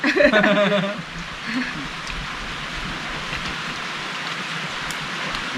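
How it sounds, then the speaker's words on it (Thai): Rain falls at night over a garden where people are camping, a continuous, fairly loud hiss that settles in steadily after a brief moment of voice at the start. "ฝนฝนก็มาปล่อยๆเนาะ ผมว่าคืนนี้น่าจะทั้งคืนนะครับ"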